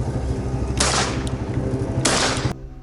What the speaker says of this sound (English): raise the rifle, aim, fire. The woods rang with thunderous shots